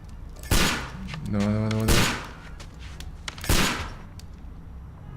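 Gunshots in the Sherlock Holmes Crimes and Punishments video game: three loud, sharp reports spaced about a second and a half apart, close and punchy, with someone briefly speaking between them.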